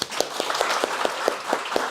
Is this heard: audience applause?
yes